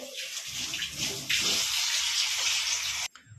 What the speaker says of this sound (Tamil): ஒரே ஒரு டம்ளர் தண்ணி மட்டும் ஊற்றிக்கோங்க